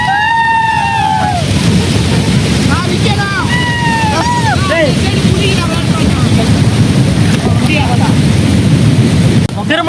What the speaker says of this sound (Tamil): குறை குறை குறைன்னு இந்த தண்ணி சவுண்டு தான் கேட்கும்